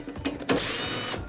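Power screwdriver backing out a quarter-inch screw from the condenser fan motor bracket of an Estate refrigerator, a couple of quick clicks followed by a short, close, high whirring burst.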